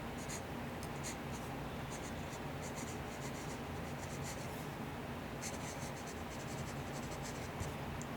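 A Teranishi guitar glass pen scratches steadily across Maruman Mnemosyne notebook paper, a close, continuous fine scraping with bursts of faint high ticks as strokes change, no voices.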